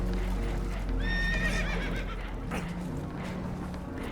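Spooked horses whinnying in Red Dead Redemption 2, one high shrill neigh over a rumbling background of rushing water and movement, with a muffled thud afterward.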